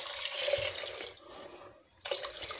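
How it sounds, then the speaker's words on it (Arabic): Water poured into a pot over pieces of watermelon rind, a soft splashing trickle up close that thins out before a few brief drips and splashes at the end. "غادي نضيفو الماء الكافي"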